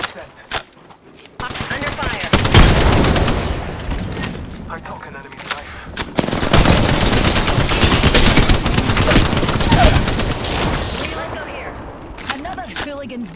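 Heavy automatic gunfire during an Apex Legends match, loud and sustained in two long stretches with short gaps, mixed with game effects while voices talk over it.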